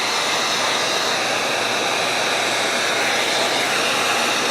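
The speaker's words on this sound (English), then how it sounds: "I'm going to use the heat gun" A heat gun warming an Oracle tint overlay on a Jeep JL blows a steady, loud broadband hiss of air throughout, close up and alone.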